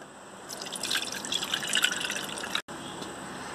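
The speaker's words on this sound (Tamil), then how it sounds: "இப்போ ஒரு சாஸ் பேனில் வடிகட்டி எடுத்துடலாம்." Chocolate cocoa mixture is strained into a saucepan, a close, quiet liquid trickle and dripping that swells and fades over a few seconds before a brief cut.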